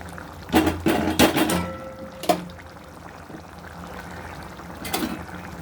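Ground paste poured from a grinder jar into a pan of paneer gravy, with a few short bursts of gloopy pouring and splattering followed by quieter dribbles.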